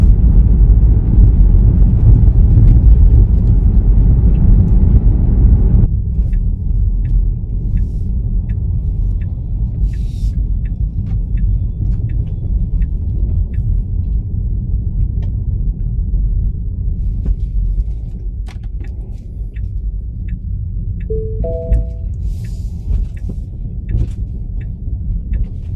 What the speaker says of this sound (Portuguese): a estacionar o carro aqui no parque